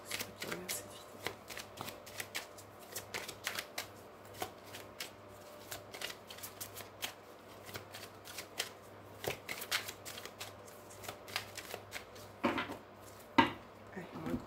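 A tarot card deck being shuffled and cut in a quiet room, giving soft repeated riffling and tapping clicks close by, with a quiet voice speaking at times.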